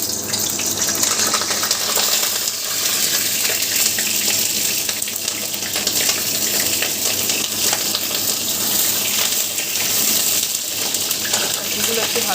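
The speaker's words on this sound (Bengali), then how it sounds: "তেলটার মধ্যে আমি পটলগুলো ছেড়ে দেবো আস্তে আস্তে।" Pointed gourd pieces frying in hot oil in a wok, seasoned with nigella seeds, giving a steady, dense sizzling hiss throughout at close range with no pauses.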